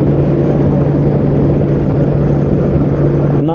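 Wind roars steadily and loudly over a Honda Goldwing rider's helmet with the stock windshield at about 65 miles per hour, a constant dense rush with a low engine hum beneath it.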